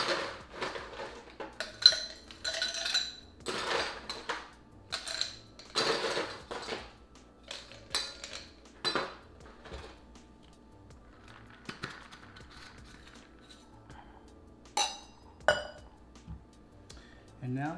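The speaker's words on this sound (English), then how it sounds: "Fill your glass up with ice." Ice being scooped and dropped into a glass, irregular clinks and clattering cubes at close range, with a voice speaking intermittently between them.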